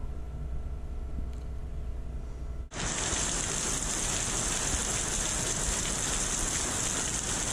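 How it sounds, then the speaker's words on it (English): Heavy rain begins suddenly and keeps pouring as a steady, dense roar after a quieter start, close and loud throughout. "Look at that rain coming."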